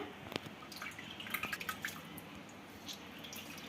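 In a kitchen, water is poured off soaked soybeans for idli, a faint trickle and patter of drips clustered in the first couple of seconds, then quieter.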